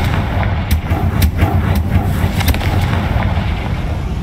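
A Confringo blasting spell bursts in a Harry Potter video game: loud, dense booming rumble with sharp crackling hits layered throughout, constant and close, with no speech.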